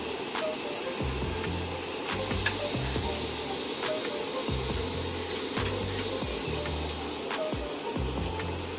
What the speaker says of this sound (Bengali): কিছুটা উষ্ণ গরম জল দেওয়া হলো